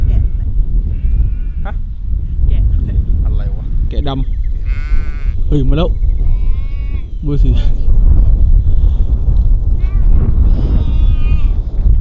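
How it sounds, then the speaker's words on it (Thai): Sheep with curled horns, some black and some white, bleat repeatedly in a series of wavering, nasal calls on an open roadside in the Faroe Islands, with people talking over them throughout. "มันเป็นแกะแล้วก็มีเขาแบบงอๆ"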